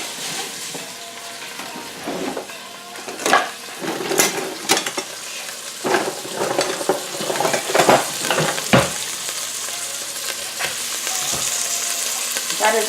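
Shrimp frying in hot oil in a pot, a loud steady sizzle and crackle with intermittent sharp spatters and stirring scrapes, close and continuous throughout.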